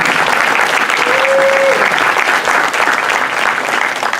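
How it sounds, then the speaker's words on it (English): An audience at a business meeting gives the membership committee a loud, sustained round of applause, with dense clapping that slowly tapers near the end. "Please give them a round of applause."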